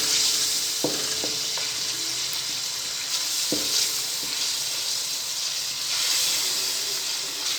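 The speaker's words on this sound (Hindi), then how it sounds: "मसाला हमारा हल्का फ्राई होने लगा है।" Masala with ginger fries in a pan, giving a steady loud sizzle and hiss with a few brief knocks and scrapes of stirring.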